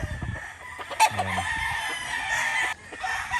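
A gamecock rooster at a gamefarm crows once in a short burst near the start, with some clucking and a steady background hum around it.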